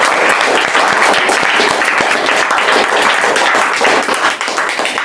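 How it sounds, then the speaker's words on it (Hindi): Students applaud together for their seniors at a Haryana board class 10 result celebration, a dense, steady clapping that fills the room without letup for the whole stretch, with no voices heard. "तो सबसे पहले ताली बजा लो अपने सीनियर्स के लिए"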